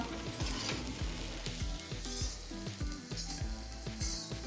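Sabudana khichdi cooks in a covered kadhai and is stirred now and then, giving a steady close-up sizzle broken by repeated scraping strokes of the spoon. No one speaks.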